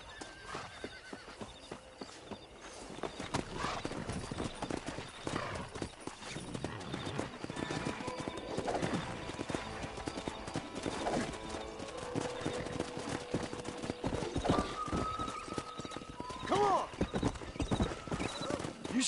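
Horses in the Red Dead Redemption video game, with hooves clip-clopping steadily throughout and a neigh or whinny near the end, alongside game ambience and some talking.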